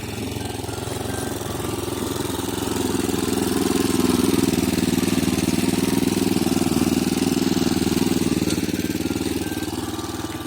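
A homemade quad-bike mini tractor's engine runs steadily nearby, a loud, throbbing mechanical drone that swells slightly in the middle and holds without a break.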